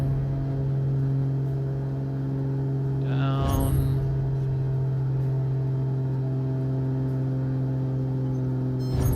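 Aircraft engine in Microsoft Flight Simulator 2024 throttled down to lower RPM, a steady loud droning hum with strong low harmonics holding through, briefly disturbed by a short whooshing burst midway.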